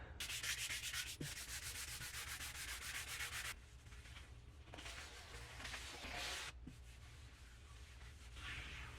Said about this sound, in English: I'm going to take my 320 grit sandpaper, lightly sand it up, reapply another coat